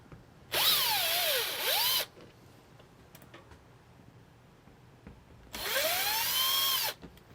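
A cordless power drill removes Phillips head screws from the inner bezel of a MaxxFan Deluxe roof vent inside an RV, two separate whirring bursts rising and falling in pitch with a quiet pause and small clicks between.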